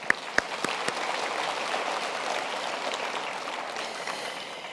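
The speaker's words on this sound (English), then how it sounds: "we can give them a hand of applause" An audience at a university graduation ceremony claps together in a steady, even wash of applause, starting with a few sharp claps and holding at a moderate level.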